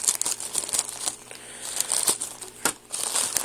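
Scissors snip and crunch through crinkly plastic packaging around a soft squishy toy, making close, busy crackling and rustling that keeps up steadily with sharper bursts throughout, with no talking.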